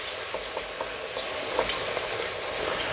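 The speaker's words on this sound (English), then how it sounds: "Just give it a stir, just to get it all mixed again." Corn flour mix being stirred into hot, sizzling apple pie filling, a steady close frying hiss with faint scraping strokes of the spoon throughout, no voices.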